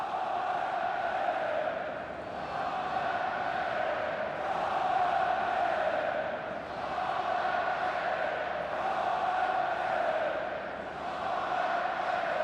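Stadium crowd noise from a FIFA video game match between VFL Wolfsburg and FC Bayern München, a steady, loud roar of massed voices with gentle swells and no clear individual calls.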